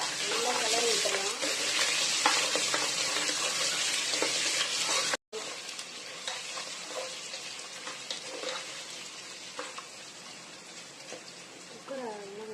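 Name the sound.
sautéing ingredients in pan for chicken majboos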